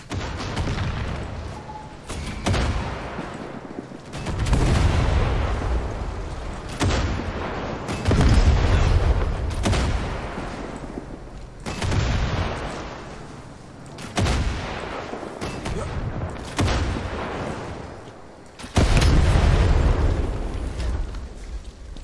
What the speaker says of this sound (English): got myself into a little bit of a firefight here